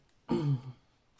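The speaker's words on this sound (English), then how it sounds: "I'm going to apologise now if I keep clearing my throat" A single short throat clear, close and distinct, followed by near silence.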